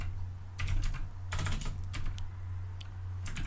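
Computer keyboard typing Groovy code, bursts of close key clicks with short pauses over a low steady hum, no talking.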